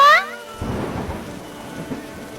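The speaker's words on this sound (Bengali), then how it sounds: "আরে মা টুকি, তুই বৃষ্টিতে ভিজে আমাদের বাড়িতে এসেছিস কেন" Rain pours down steadily with a rumble of thunder in a cartoon, after a brief high tonal sound at the very start; no voices.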